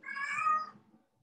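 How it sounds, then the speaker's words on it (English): A house cat gives a single drawn-out meow, fairly close and clear, lasting under a second before fading into quiet. "Oh, I have a meowing cat."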